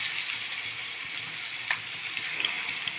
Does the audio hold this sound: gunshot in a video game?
no